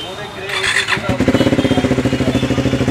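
A Triumph Speed 400 motorcycle with a full-system bend pipe exhaust starts with a squeal, then revs into a loud, rapid pulsing exhaust burble close up.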